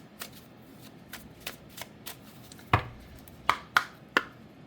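Oracle cards being shuffled during a love reading: soft riffling texture with a few louder, distinct card snaps toward the end, close and quiet, with no voice.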